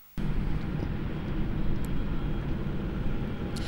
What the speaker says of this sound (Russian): Этот самолет приземлился буквально пару минут назад. Рейс Москва-Абакан.